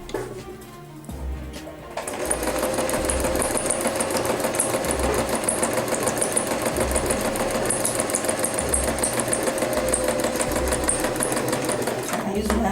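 A sewing machine stitches steadily and loudly after a brief quiet start, its needle mechanism producing a fast, even mechanical rattle with a low pulsing hum underneath.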